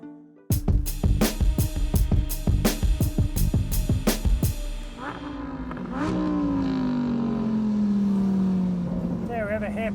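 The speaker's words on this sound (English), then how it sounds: "The brothers will be piloting identical Jaguar F-Type SVRs." A Jaguar F-Type SVR, an all-wheel-drive sports car, climbs a hill: a loud, close engine barks through rapid rhythmic gear-change pops and revs, then settles into a sustained droning pull as it accelerates away.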